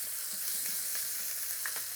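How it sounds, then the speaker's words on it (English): Steady, bright sizzle of beef flash frying hard in a hot pan, continuous and close, with faint stirring noises. "that's a lovely sizzle. That's what we're after. Just flash frying that meat."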